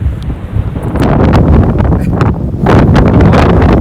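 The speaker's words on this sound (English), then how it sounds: "Sorry about the wind, but it is blaring up here" Strong mountain wind at high altitude in Rocky Mountain National Park buffets the microphone with loud, continuous roaring and rumbling gusts that swell and never let up.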